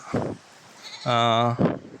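A young goat, a native and Anglo-Nubian cross, gives one clear, wavering bleat close by, with people talking just before and after it.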